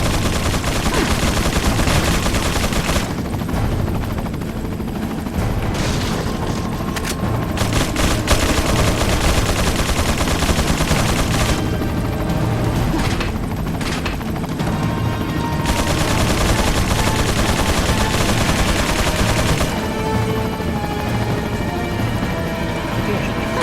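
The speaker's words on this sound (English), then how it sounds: "So let's just start shooting." Sustained heavy gunfire from the survival horror game Resident Evil 4 on Professional mode, loud and dense with rapid bursts and brief pauses, filling the whole stretch.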